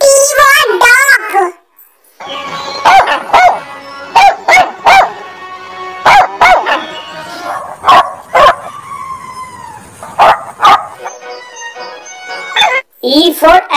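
A dog barks and yips repeatedly at close range, with some whining and howl-like tones between the sharp barks.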